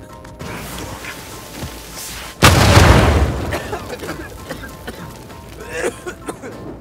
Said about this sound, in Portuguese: agora a gente sabe o que causou aquela explosão